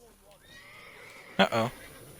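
Roach the horse in The Witcher 3 gives a loud, close neigh, a short burst then a longer whinny, after quieter sounds beforehand; no talk.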